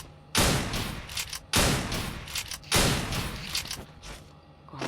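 Gunfire in a shooting video game, with shotguns: three loud, close blasts roughly a second apart, each trailing off into reverberating noise, with no talk.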